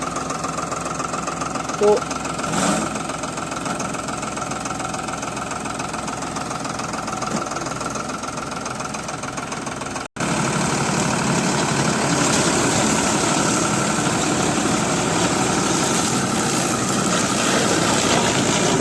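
A tractor-driven ratoon management device runs in a sugarcane field, its engine idling with a steady mechanical drone, then jumping louder and rougher as it is throttled up partway; someone speaks briefly near the start.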